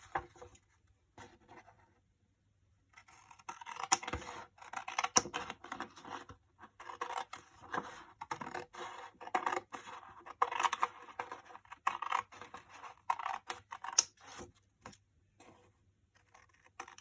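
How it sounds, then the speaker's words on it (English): Scissors snip and crinkle through a sheet of paper in a quiet room, short close crisp cuts coming in irregular bursts after a brief pause. "I've only got scissors, so I'm going to use them"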